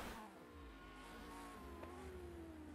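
A race car engine in the rFactor 2 racing game revs and drones continuously at a steady, moderate level, with a faint tire squeal partway through, during a Silverstone endurance race.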